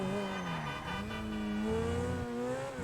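Ferrari sports car driven in GTA 5, a sustained engine drone whose pitch dips and climbs as it revs and shifts, steady and fairly close, with no talking over it.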